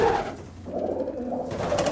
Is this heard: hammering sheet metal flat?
no